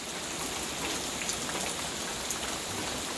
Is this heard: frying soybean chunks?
no